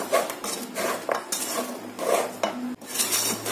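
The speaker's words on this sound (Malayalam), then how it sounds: "അതിനുശേഷം ഇളക്കിയെടുക്കാം" A utensil scrapes and knocks around a pan while spice mixture is stirred into jaggery-coated banana chips, producing dense rattling and clattering strokes in an uneven rhythm, close and moderately loud.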